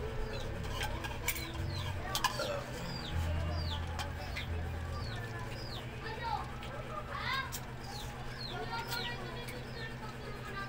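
Chickens cluck and chirp repeatedly in the background of an outdoor scene, short scattered calls over a steady low hum while people talk nearby.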